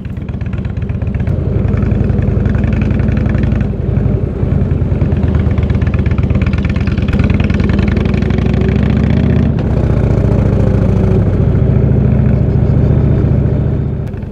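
Steady, loud engine drone from a motorcycle riding south through the Adige valley in Italy, continuous throughout with slight shifts in pitch and no talking.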